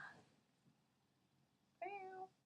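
A pet cat meows indoors, one clear, drawn-out call near the end after a quiet stretch with faint room noise.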